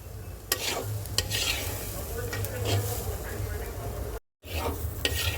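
Steady soft sizzling of rice and lentils frying in a little oil in a pan, broken by occasional scraping stirs and a brief dropout near the end.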